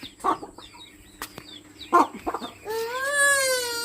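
A chicken kept as a pet gives a few short clucks and squawks close by, separated by quiet gaps, then a drawn-out, wavering high cry near the end.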